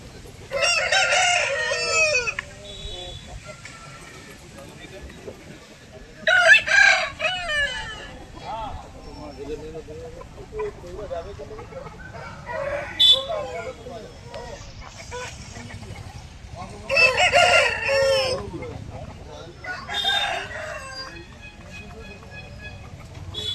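Chickens and roosters at a village poultry market in Bangladesh, with several loud crowing bursts and clucking spread across the clip over a steady crowd murmur, with voices talking in the background.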